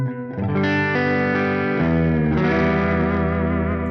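Electric guitar through a Neural DSP Soldano amp plugin on a warm clean preset, sustained chords ringing with lush reverb and a wide, spacious tail, loud and close with no talking.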